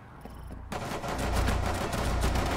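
Rapid automatic gunfire in Rainbow Six Siege erupts after a quiet moment, sustained, close and loud, growing denser through the burst.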